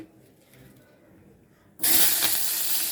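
Dried red chillies dropped into hot oil burst into a loud, bright sizzle partway through, after a quiet stretch of low kitchen background.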